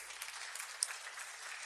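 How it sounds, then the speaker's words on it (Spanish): Church congregation clapping in praise during a Spanish-language sermon, a steady, fairly faint patter of many hands with no talk over it. "Dale un aplauso al Señor."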